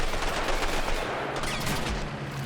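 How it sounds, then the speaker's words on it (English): In a video game, gunfire hits a BRDM armored car in a dense, continuous burst of rapid shots and impacts, loud and close. "So this BRDM is getting shot up."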